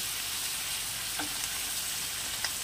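Dry red chilli paste hits hot oil in a pan for a Bengali milk-style katla fish curry, producing a steady, close, hissing sizzle with a couple of brief spatters, no talking.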